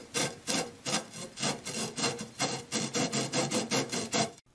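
Rhythmic rasping strokes of a tip shaping tool work a leather cue tip, about fifteen quick even scrapes close up, each a bright gritty rub repeating steadily with no talking.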